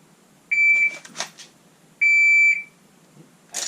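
Two sharp electronic shot timer beeps about one and a half seconds apart during dry-fire practice, each followed by brief clattering noise, clear and close.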